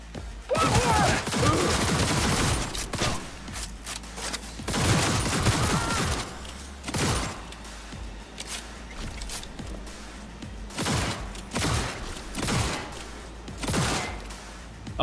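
Rapid bursts of automatic gunfire from a firefight in the video game Cyberpunk 2077, loud volleys at about 0.5, 4.5 and 7 seconds followed by shorter, sharper shots spaced through the rest of the clip.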